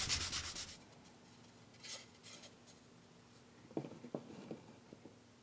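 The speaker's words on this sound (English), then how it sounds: "I'll give everything a good sanding" Quick, quiet scratchy strokes of sandpaper on wooden lamp parts, a short burst at first, then sporadic rubs and light taps.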